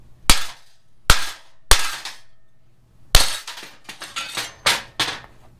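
A hammer strikes oxy-acetylene welded steel samples several times: three loud, isolated metallic blows, then a rapid cluster of sharp clanging hits, close and clear with no talking.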